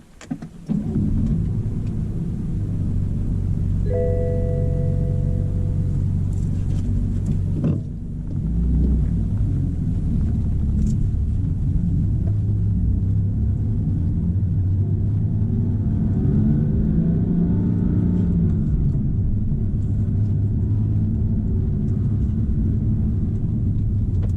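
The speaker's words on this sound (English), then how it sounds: "we're going to fire it up and take it for a ride and see what it sounds like" A BMW M4 fitted with an AFE Magnum Force Stage 2 intake rumbles at a deep, steady idle after starting, with a brief dip and a slow rev swell later, close and loud with no talking.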